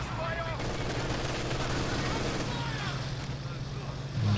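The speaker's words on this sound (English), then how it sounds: "MG just suppressing there." Machine-gun fire lays down suppressing fire in a Company of Heroes 2 1v1 match, a steady low rattle beneath constant battle noise and a talking voice.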